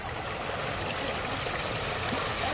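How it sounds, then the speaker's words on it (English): Running water flows from a garden pond at Baxter Gardens in Knoxville, a continuous, even rushing and trickling that fills the whole moment at close range without pause. "I love the sound of running water."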